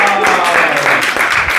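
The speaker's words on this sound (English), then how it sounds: "Give him a round of applause." Audience members at a talk give a short burst of dense clapping, loud and continuous over a brief moment.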